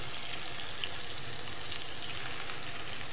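Prawns sizzle steadily in a hot karahi as half a lemon's juice goes in, a continuous soft frying hiss with no talk over it.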